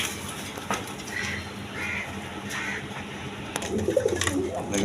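Caged white King pigeons coo in low, rolling bursts at a market stall, the calls fairly close but blended with shop noise and background chatter.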